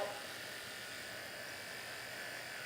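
A battery-operated makeup brush cleaner spins a brush in water with a thin, steady electric whirr, faint and continuous throughout.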